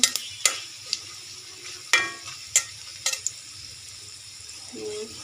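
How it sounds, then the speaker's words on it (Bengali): Whole spices such as black and green cardamom, cinnamon, cloves, peppercorns, cumin and nigella stirred and fried in a hot pan for a lentil and egg curry, with faint sizzling and several sharp scrapes and clinks of a spoon against the pan. "একটা কালো এলাচ তিনটা সাদা এলাচ দুটো দারচিনি লবঙ্গ গোলমরিচ গোটা জিরে কালো জিরে একটু নেড়ে চেড়ে"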